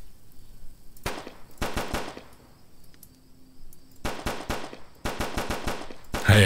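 Video game gunfire in a simulator game: rapid bursts of automatic shots in several volleys separated by short pauses, loud and close, with no talking over them.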